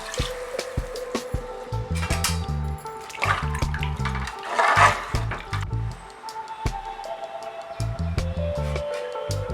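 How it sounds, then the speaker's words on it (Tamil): Water splashes and gurgles into a cooking pot for mushroom biryani in uneven pours, with clinks of metal and brief pauses between. "ஒரு டம்ளருக்கு ரெண்டு டம்ளர் தண்ணி சேர்த்துக்கிறேன்"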